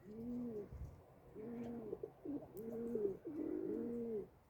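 Soft, rhythmic cooing from a pigeon or dove, repeated in several low, rolling phrases close by with brief pauses between them.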